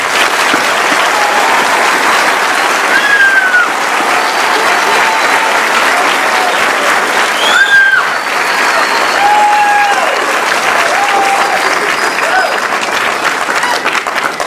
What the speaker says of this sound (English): Once again, a round of applause for an outstanding senior class.